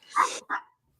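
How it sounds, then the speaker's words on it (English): A dog lets out two short barks close by, the first longer and louder, the second briefer, then quiet. "Do you not hear this dog irritatingly loud?"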